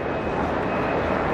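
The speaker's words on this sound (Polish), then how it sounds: "Cały czas nas pilnuje śmigłowiec, chyba policyjny." Loud, continuous rotor and engine roar of a police helicopter overhead during a farmers' protest march in Warsaw, a dense steady drone without pauses.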